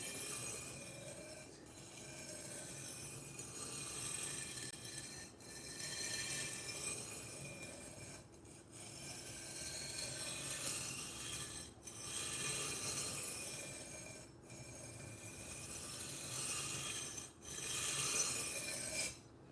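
A vintage Chinese chef's knife, over 30 years old, scraped rhythmically across a whetstone, long rasping strokes repeating every few seconds, close and quiet with no talking.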